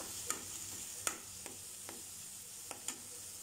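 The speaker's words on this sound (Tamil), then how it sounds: "இப்போ நம்ம ஆனியன் ஆட் பண்ணிடலாம். Onion add பண்ணாச்சு. நல்லா பொன்னிறம் ஆகிற வரைக்கும் வதக்கிக்கலாம்." Onions stirred and sautéing in a pan of oil, cooking toward golden for a shrimp curry, a soft steady sizzle with several sharp scrape-and-stir clicks scattered through, no voices.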